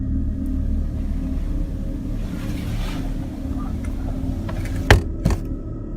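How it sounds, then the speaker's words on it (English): Two sharp, heavy thumps from a fist banging on the inside of a truck cab, close and loud, following a low steady rumble. "the uploader bangs his fist on the inside of the truck"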